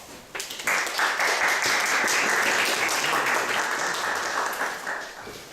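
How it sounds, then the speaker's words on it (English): An audience at a travel talk breaks into applause to welcome the speaker, the clapping rising quickly after a brief lead-in and holding steady before easing off. "Please welcome Crystal with an applause"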